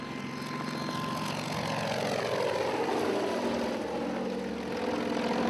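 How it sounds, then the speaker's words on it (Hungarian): A Kamov Ka-26 coaxial helicopter with two counter-rotating main rotors lifts off at an air show in Szeged, its loud, steady engine and rotor drone rising slightly in pitch and holding strong throughout. "hangja és alakja miatt számos repülésrajongó felkapja a fejét, amikor felemelkedik a K26 a bemutatókon"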